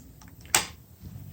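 Starter solenoid on a 1986 Harley-Davidson Softail motorcycle gives a single sharp, close click amid quiet background hiss.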